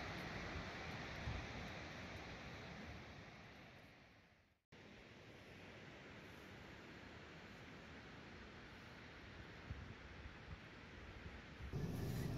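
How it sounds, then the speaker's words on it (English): Surf rolling in at Kennebunkport Beach, Maine, on a foggy day: a steady, fairly faint wash of waves with wind noise, briefly cutting out partway through before resuming, with no voices. "you can hear the ocean"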